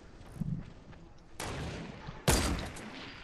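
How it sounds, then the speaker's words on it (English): Sniper rounds from the video game Man Down strike a wall, two sharp broadband impacts about a second apart, the second louder and more sustained, over low rumbling gunfire. "They're just wasting their sniper ammo shooting this wall"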